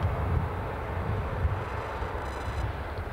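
A British Airways airliner departing Edinburgh Airport for Heathrow gives a steady, distant broadband jet roar that holds evenly throughout, fairly quiet and with no voices.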